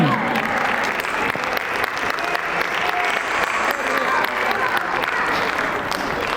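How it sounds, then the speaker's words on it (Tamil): Loud, steady applause from a crowd at a fancy dress competition during a Pongal festival, sustained dense clapping with some voices mixed in throughout. "பலத்த கரகோஷம்"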